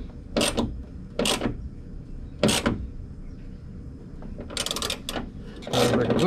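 A 10mm wrench tightens a fastener on a drift car interior, making several short, separate ratcheting bursts of metallic clicks, with pauses between them, then a denser run of turns near the end.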